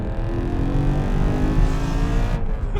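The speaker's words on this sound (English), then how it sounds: "I love the sound of this motor" A powerful naturally aspirated BMW M3 engine with a manual gearbox drones loud and steady under acceleration, heard from inside the car with road noise, then cuts off abruptly.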